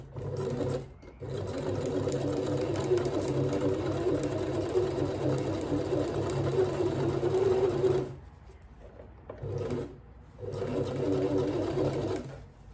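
A sewing machine stitches a birthday dress in long, steady, close runs with a fast even whir, stopping briefly near the start and twice near the end before resuming.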